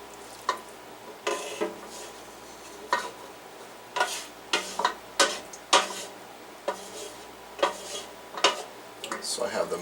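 Beef fat is scraped and rolled from a pan into a sieve while making tallow, giving a string of soft knocks and scrapes of metal on metal at irregular intervals, close by and fairly quiet.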